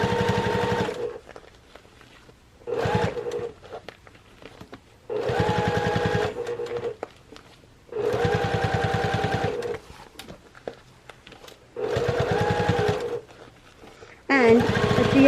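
A sewing machine top-stitches a tucked raw edge on a vinyl-lined cosmetic bag made from a placemat, running in five or six short bursts of fast, even stitching separated by quiet pauses.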